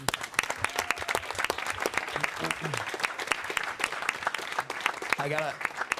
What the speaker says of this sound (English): So round of applause for all of you as well.